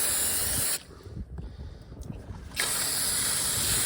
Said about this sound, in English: We're going to give them a squirt of brake cleaner.